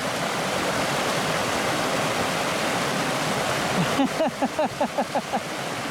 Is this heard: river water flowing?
yes